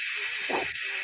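A human voice imitates air rushing out of large opened gas tanks, giving one soft, breathy hiss of about a second that rises and fades against a steady background hiss.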